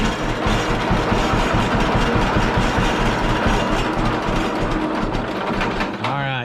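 An engine idles close and loud with a rough, rapid, rhythmic knocking chug and mechanical clatter that holds steady before fading at the end.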